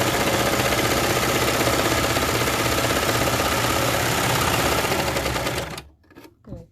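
A Baby Lock Victory serger stitching a side seam runs loud and fast in a continuous whir for about six seconds, then stops abruptly, followed by a few faint handling clicks.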